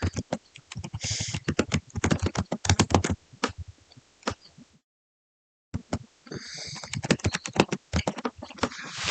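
Typing on a computer keyboard while entering a name into Google Slides: rapid, close clicks in uneven bursts, with a short silent pause midway before the keystrokes resume.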